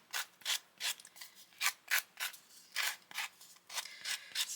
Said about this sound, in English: let me just grab my little sanding thing, just to do this again.